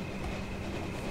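A train rumbles steadily in the Call of Duty: United Offensive video game, a continuous low rolling noise with a faint hum, loud and close with no talking.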